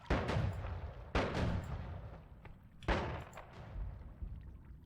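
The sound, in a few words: explosion from a magic wand in a video game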